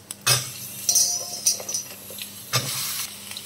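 Red amaranth stalks drop into a hot pan with garlic and curry leaves for a tomato curry, giving a few sharp sizzling bursts and metal spoon clinks over a quiet background hiss.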